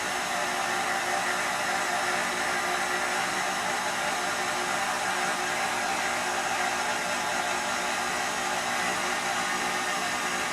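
A KitchenAid stand mixer with its pasta cutter attachment runs at speed 4, giving off a steady, loud motor whir that holds unchanged throughout with no talking.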